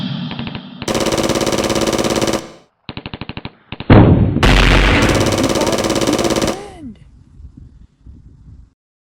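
Toy army men battle animation with loud, close bursts of automatic gunfire, several rapid machine-gun volleys separated by short gaps, then a few scattered single shots fading out.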